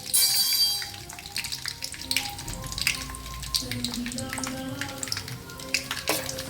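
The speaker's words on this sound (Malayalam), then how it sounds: "ആദ്യം നമുക്കിതിലേക്ക് വേണ്ടിയ കപ്പലണ്ടി വറുത്തെടുക്കാമേ." Peanuts frying in hot oil in a pan, a steady sizzle with some watery clatter and scattered clinks, fairly close and loud at the start, with no talk over it.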